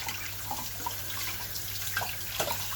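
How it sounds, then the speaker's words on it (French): Steady running tap water pours and splashes while a metal mess tin is rinsed, a continuous close hiss with small irregular splashes and no talking. "On rince."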